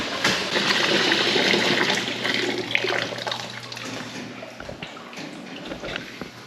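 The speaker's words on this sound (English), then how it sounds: "in order to warm the milk up, I just stick it in the sink with hot water." Hot water runs into a sink on a goat farm, a steady rushing pour that gradually eases and thins toward the end, heard alone and close.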